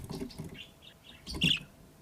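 A pet budgerigar chirps among lettuce, parsley, seed, cucumber, egg and melon, giving a few short, bright tweets and one louder squawking call near the end, close and alone.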